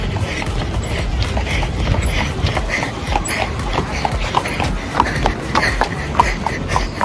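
Hooves of a carriage horse in Central Park clip-clop in a steady, even rhythm on pavement, moderately loud and close, over continuous outdoor background noise.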